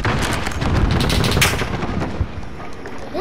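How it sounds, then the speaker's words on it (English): Shotgun fire in Call of Duty Modern Warfare, a dense run of loud close blasts through the first seconds that then thins out and fades. "Shotgun out, bro."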